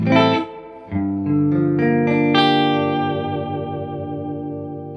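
Sustained chords ring out on a Novo Serus J electric guitar through a modded Fender Deluxe Reverb amplifier, bright and clean with a long, shimmering decay.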